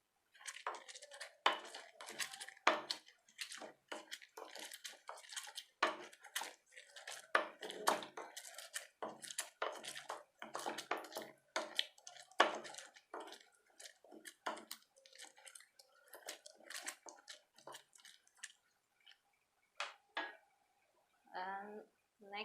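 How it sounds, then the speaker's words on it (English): Green chilies roughly pounded by hand in a home kitchen while cooking a Naga potato curry, a rapid irregular series of sharp close knocks and taps, with brief pauses and fainter clatter near the end. "So now I'll roughly pound it."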